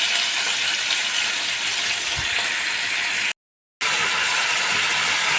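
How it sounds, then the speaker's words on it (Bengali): Salted potatoes frying in oil give a dense, loud, steady hiss that runs unbroken except for a brief dropout of total silence, close to the pan with no talk. "আমি আলুগুলোতে অল্প নুন দিয়ে ভেজে নিচ্ছি।"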